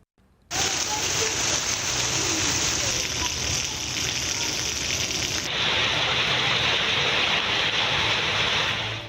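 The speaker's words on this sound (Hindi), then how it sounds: "पेशावर समेत खैबर पख्तूनख्वा के बेशतर शहरों में सुबह सवेरे मूसलाधार बारिश हुई।" Torrential rain pours down in Peshawar, a dense, loud, continuous hiss and rush of falling water that stays steady throughout.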